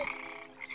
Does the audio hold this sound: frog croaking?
yes